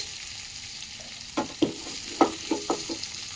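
Ingredients for a fenugreek leaf chutney fry in a pan with a soft steady sizzle, joined partway through by several quick scraping stirs that come close together.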